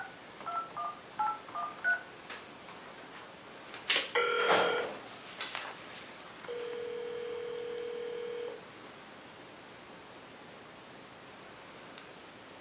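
A telephone dialing a cell phone: a quick run of touch-tone beeps, some handling rustle, then a steady electronic ringback tone held for about two seconds, heard close and alone in a quiet room.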